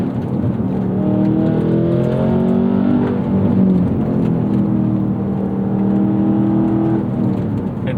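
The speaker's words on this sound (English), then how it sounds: "Get this thing to redline." A supercharged Cadillac CT5-V Blackwing engine revs hard toward redline on a damp gravel road, its pitch sweeping up and falling back in smooth waves, loud and close throughout.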